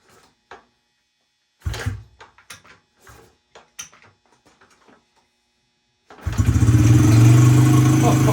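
Honda XR70 fitted with a BBR 88cc big bore kit, a few kick-start thumps and clicks, then the engine firing up and running loud and steady close by.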